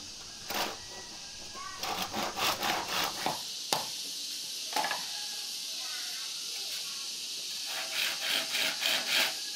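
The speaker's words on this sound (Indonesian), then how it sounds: "menggunakan gergaji." A hand saw cutting palm frond stalks into lengths, with rhythmic rasping back-and-forth strokes in short runs, pauses between them and a voice speaking over parts.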